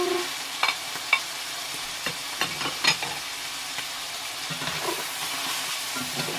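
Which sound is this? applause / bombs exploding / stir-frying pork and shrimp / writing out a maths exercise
stir-frying pork and shrimp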